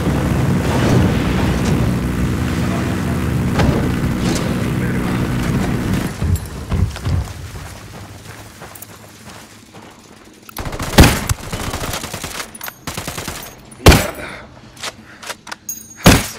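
Sniper shot and gunfire in the Ghost Recon Wildlands video game, heard as sharp loud cracks and bursts later in the clip, following a stretch of dense rumbling background noise.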